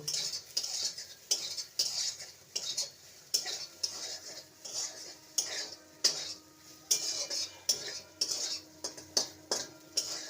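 Soya chunks being stirred with turmeric and Kashmiri chilli powder in a pan, a metal spoon scraping and clinking against the pan in repeated close strokes with a faint sizzle beneath.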